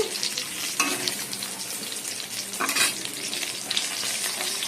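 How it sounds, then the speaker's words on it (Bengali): Fish frying in hot oil until reddish-brown, a steady close sizzle and crackle that runs throughout, with a few louder spitting bursts and the odd stir. "তো মাছটা আমার লাল লাল করে ভাজা হয়ে গেছে"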